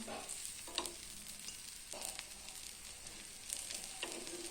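Amboli, a homemade rice pancake, roasting with a little oil on a hot pan on full flame, giving a steady soft sizzle with a few brief scraping knocks, alone with no talk.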